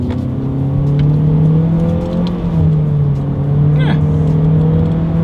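A 2021 Honda HR-V with a CVT pulls hard through paddle-shifted gears, its steady engine drone rising and dipping with each simulated shift, heard from inside the cabin with a brief spoken word.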